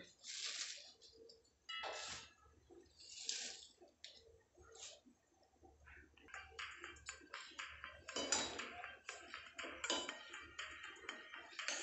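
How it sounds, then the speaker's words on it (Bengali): Fresh spinach going into a pot of half-cooked masoor dal gives a run of close, quiet, wet rustles and splashy bursts, sparse at first and then crowding together toward the end. "ডাল অর্ধেক সিদ্ধ হয়ে এসছে এবার আমি পালং শাক দিয়ে দেবো"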